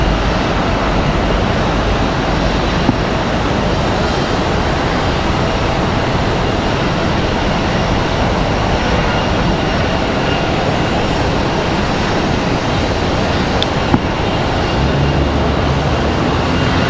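A Frontier Airlines jet in Flower the Hummingbird livery at Raleigh-Durham International Airport gives a steady, loud broadband roar that holds unchanged for the whole stretch, with no voices.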